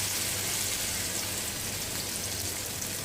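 Potato kababs frying in a few spoonfuls of hot oil in a pan, giving a steady, dense hiss and sizzle that carries on evenly throughout with no breaks.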